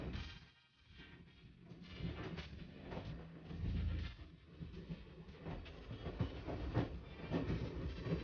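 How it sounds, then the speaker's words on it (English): A passenger train crossing the prairies of Saskatchewan and Alberta rolls along the rails, with a steady rumble inside a rocking dining car and rhythmic clickety-clack beats from the track, heard without talk. "the rocking of the dining car, and the chattering of the rails make for an unusual and interesting way to start your day"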